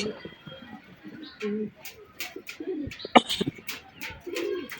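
King pigeons coo in low, soft repeated murmurs close by on a rooftop, with scattered chirps and light scuffling noises around them.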